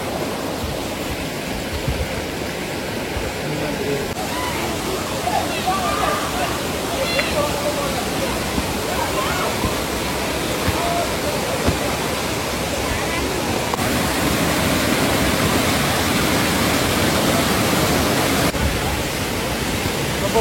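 The waterfall at Gundar Dam near Tenkasi rushes as a loud, steady, broad roar that fills the whole stretch, with voices in the background now and then.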